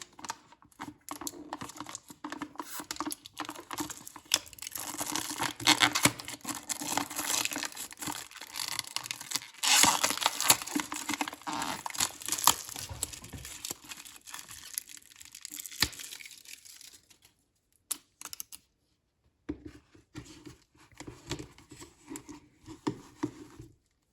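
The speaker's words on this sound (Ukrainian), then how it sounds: "зняти цю захисну фольгу" Protective foil being peeled and crinkled off the lid of a ColorWay CW-1071 screen-wipe container, a close, continuous rustling and crackling with a few sharper snaps and brief pauses near the end.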